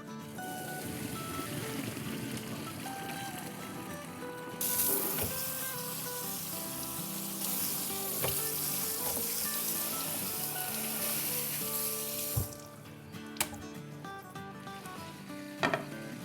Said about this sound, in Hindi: हम अपनी नूडल्स को स्ट्रेन कर देते हैं